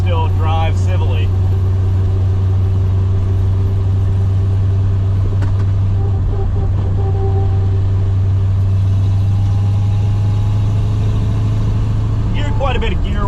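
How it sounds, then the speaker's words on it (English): Stock T5 five-speed manual transmission in a 1991 Fox body Mustang whining under a steady loud engine drone while driving, with someone talking briefly at the start and end. "Quite a bit of gear whine"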